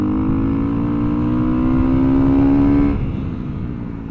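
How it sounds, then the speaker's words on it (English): Big-bore Honda CRF300L dual-sport motorcycle engine revving: a loud, close, steady rising tone that climbs, holds high, then drops away as the throttle is released and fades slightly. "It revs out very freely all the way to redline."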